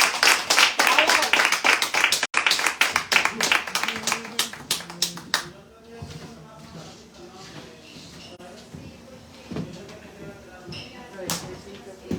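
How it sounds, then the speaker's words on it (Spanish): Applause from an audience at a cultural poetry event in Spanish, a burst of clapping that fades out after about five seconds into scattered quieter sounds. "Bueno, entonces, un aplauso"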